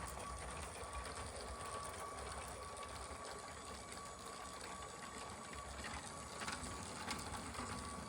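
A LEGO train runs slowly along an elevated track indoors, giving a steady, close mechanical whir and light clicking rattle of small gears and wheels that continues evenly throughout, with no talking.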